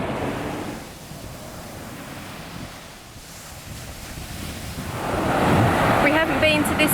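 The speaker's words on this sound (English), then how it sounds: "before heading home we have come to Chaam beach" Surf rolls onto Cha-am beach in Thailand, a broad wash of breaking waves with wind buffeting the microphone, swelling louder toward the end as a voice speaks over it.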